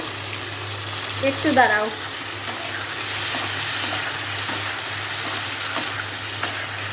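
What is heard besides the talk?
stirring and frying food in a pan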